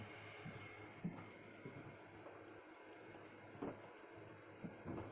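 Water streaming down a large water wheel, a soft continuous rushing wash heard from a short distance, fairly faint, with a few small splashes and knocks.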